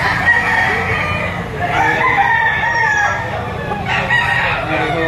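A rooster crows repeatedly amid other fowl at a busy chicken market in Lipa, Batangas, loud and close over constant crowd murmur.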